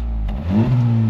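The engine of a new 2024 Honda Civic Type R high-performance hatchback, which has a triple-pipe exhaust, revs up quickly through that exhaust, a loud close rising roar that swells and then holds, with no talk.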